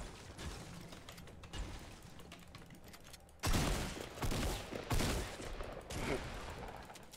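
Fortnite gunfire: scattered shots ring out at moderate distance, then louder, heavier bursts arrive in clusters in the second half, mixed with game sound and occasional voice.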